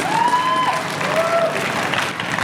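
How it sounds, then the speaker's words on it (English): A crowd claps steadily at a May Day gathering in Chicano Park, San Diego, with a couple of sharp rising whistles cutting through the dense, loud applause. "So let's give yourselves a round of applause."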